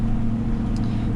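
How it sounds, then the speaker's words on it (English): A Ford F-450 truck engine hauling a heavy load, a steady low diesel-like drone that chugs along continuously and close, with no talk over it. "I like how the truck just chugs along, like I really do."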